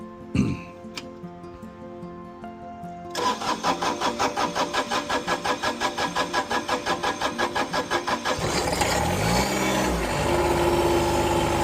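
An old tractor engine cranks with a few clicks, catches, and settles into a steady rhythmic chugging idle, then revs to a higher, rougher drone.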